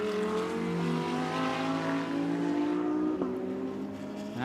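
An Audi GT race car pulls out of the pits at Okayama, Japan. Its engine note rises as it accelerates away, fairly faint and at a distance, with a whining tone climbing steadily over a few seconds.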